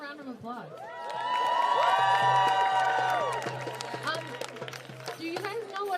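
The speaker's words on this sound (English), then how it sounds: "Let's give them another round of applause." A crowd at a stage event at the Columbia University Palestine encampment breaks into loud applause with cheers and high whoops, swelling to a peak and then tapering into scattered clapping.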